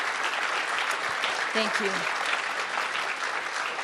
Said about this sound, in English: Can we give an extra round of applause to all those that produced that?